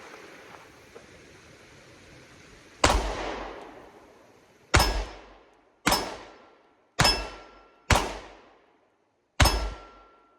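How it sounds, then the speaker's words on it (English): Pistol rounds from a Canik MC9 fired at steel targets produce six sharp, loud reports, each with a ringing decay, spaced irregularly about a second or two apart outdoors. "I'm going to try and see where these rounds are actually impacting that steel."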